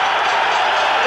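A boxing arena crowd on its feet, a loud, dense, continuous roar of cheering and clapping that holds steady across the short moment.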